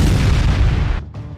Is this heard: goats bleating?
no